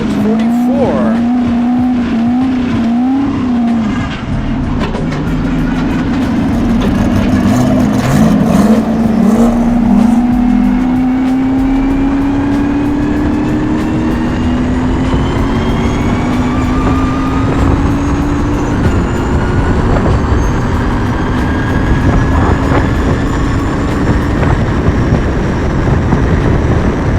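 A land speed race car launches from the 200-mile-an-hour line on the El Mirage dry lake course, its engine roaring loud and steady as it climbs through gears, rising in pitch and slowly pulling away.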